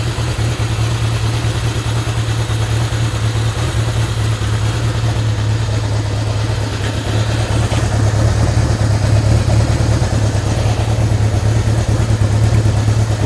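A 1971 Honda CB750 motorcycle engine with replacement carburetors idles steadily with a deep, throbbing low rumble, close and loud, with no voices.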